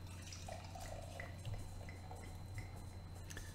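Alesmith Barrel Aged Speedway Stout, a 2015 vintage barrel-aged beer, pouring from the bottle in a faint, steady trickle with soft gurgles and drips, quiet and close with no talking.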